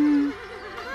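A horse gives a short, quavering whinny, its wavering pitch rising and falling for about a second.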